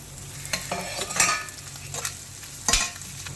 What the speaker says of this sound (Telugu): ఇప్పుడు దంచి పెట్టుకున్న వెల్లుల్లి ముద్దేద్దాం